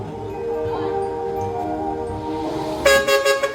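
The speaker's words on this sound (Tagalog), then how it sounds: "Pangbus ata yun sa busina." A bus horn honks in short, bright, loud blasts near the end, breaking over a quieter background of traffic and a faint tonal hum.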